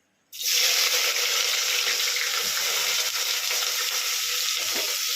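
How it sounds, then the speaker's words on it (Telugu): Onions dropped into hot oil burst into a loud, close, continuous sizzle that starts abruptly and holds steady without letting up. "ఫస్ట్ ఆయిల్ వేసుకొని హీట్ అయిపోయింది ఉల్లిపాయలు వేసుకుందాం"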